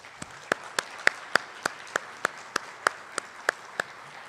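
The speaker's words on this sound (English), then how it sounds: "Join me in applauding these individuals." Scattered, sparse clapping at a 2020 graduation ceremony for the WTI Topeka campus, with single sharp claps at a fairly steady pace from a small number of people in a hall, and no talking.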